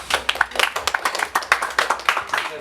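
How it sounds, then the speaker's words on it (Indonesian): Children's scripture-reading contest at a church in Emanuel parish, where an audience claps for Nina from KUB 5A: a close, fairly sparse patter of individual handclaps in an uneven rhythm that keeps going through the whole moment. "Kita berikan tepuk tangan untuk Nina dari KUB 5A"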